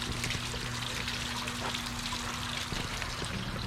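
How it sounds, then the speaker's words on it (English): Water splashes and pours steadily from a garden fountain at Fellows Riverside Gardens in Mill Creek Park, a close, continuous trickling wash that runs on its own with no talk. "Love that fountain."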